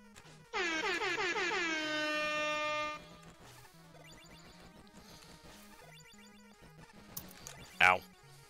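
A loud air horn blares once for a couple of seconds in Mega Man Maker, followed by quieter game music and a short sharp effect near the end.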